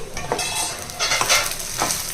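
Vegetables sizzle in a hot pan while a utensil scrapes and stirs a few times, close and fairly loud.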